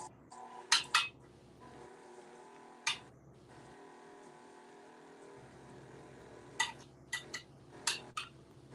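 Utensil clinks and scrapes against a dish while Thanksgiving dessert ingredients are mixed, sharp clatters in scattered bursts over a quiet kitchen background.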